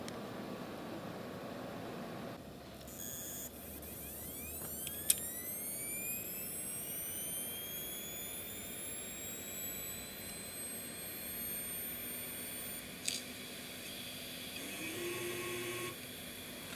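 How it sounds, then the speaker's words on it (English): A Seagate Cheetah 450GB enterprise hard drive spins up with a loud rising whine that climbs steadily in pitch over many seconds, a few sharp clicks partway through, then settles into a steady high-pitched spinning drone. "listen to the sound this drive makes while spinning up"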